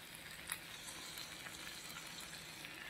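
Fish frying in a pan of hot oil, a quiet steady sizzle with a faint hiss that holds evenly throughout and one small pop early on, with no voices.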